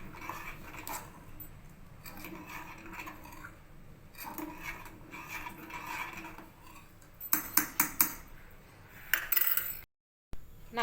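A spoon scrapes and stirs inside a vessel, mixing sugar into badam milk, with a repeated soft rubbing rhythm and light metallic clinks that quicken near the end, heard up close and quiet.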